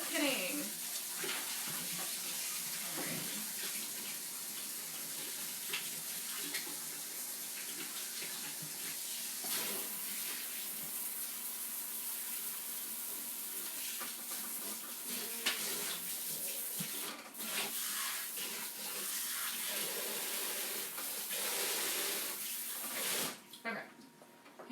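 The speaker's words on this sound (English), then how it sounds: "I'm going to go ahead and wash my hands" Hands washed under a running kitchen tap, a continuous hiss of water splashing into the sink for a long stretch with brief pauses and a final cut-off near the end.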